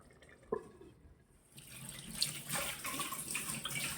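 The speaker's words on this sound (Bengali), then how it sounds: "সেগুলো সব ধোবো এখন আস্তে আস্তে" Tap water runs into a sink as dishes are washed, starting after a quiet opening with a faint clink, then a steady close splashing stream over scattered knocks of dishware, no talking.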